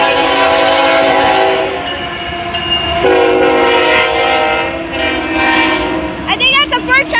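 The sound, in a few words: four-engine grain train passing with horn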